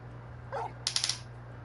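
Dog in the Final Fantasy XVI video game gives a short yip, followed by a quick burst of three or four sharp barks, close and clear over a low steady hum.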